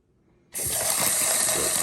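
Water bursts from a newly installed bathroom faucet, turned to cold, after a half-second of near silence, then runs in a steady, loud, close gush.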